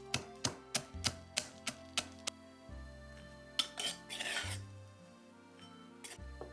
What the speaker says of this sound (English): Crush 30 grams of peanuts.